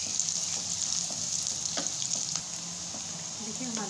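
Onions frying in a pan as the first step of zeera pulao, a steady close sizzle with occasional stirring scrapes and clicks running throughout.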